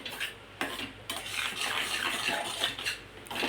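Green food colour being stirred into a sweet-sour raw mango mixture, with a spoon scraping and clacking against the pan in repeated strokes over a soft sticky churning, close and fairly clear, with no talk.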